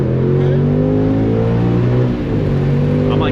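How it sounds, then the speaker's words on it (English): A car engine revs in sport mode toward the red line, a loud steady climbing drone heard from inside the cabin, dipping briefly near the end before rising again. "I'm like hitting the red line or whatever."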